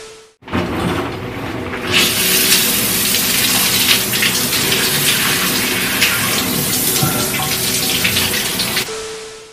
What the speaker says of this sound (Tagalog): So ngayon ha, naliligo naman tayo.